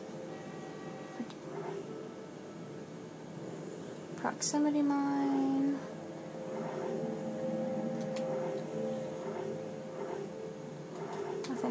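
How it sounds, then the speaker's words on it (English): A printer in the game Dead Space 2 whirs and clicks, rising and falling, a printer-like hum with a brief tonal beep midway, while a voice speaks briefly. "printer made a noise again"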